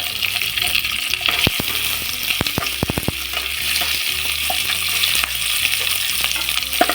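Paneer frying in a hot pan for Paneer Manchurian, a loud, close, continuous sizzle with sharp clicks and knocks of a spatula stirring, no voices.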